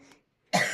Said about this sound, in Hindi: जाने कैसी खांसती है अजीब तरीके से